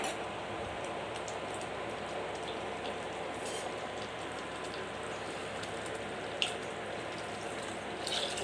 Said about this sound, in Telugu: ఇప్పుడు దీనిలో మనకు కావాల్సినన్ని వాటర్ పోసుకోండి.